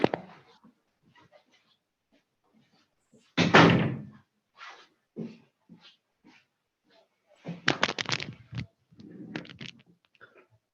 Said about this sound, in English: I will close the door just in case there is some noise.